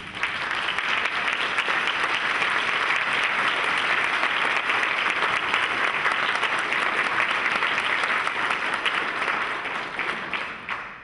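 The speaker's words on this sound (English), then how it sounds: "Let's give them a round of applause." Sustained applause from a sizable audience at a conference forum, dense and steady throughout before tapering slightly at the end.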